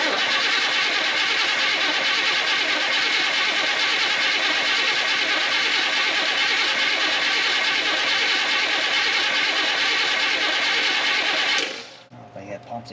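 A 1984 Chevy C10 pickup that hasn't run in 20 years cranks continuously with its fuel line freshly primed, a loud steady starter churn that doesn't catch and cuts off near the end, followed by brief quiet rustling.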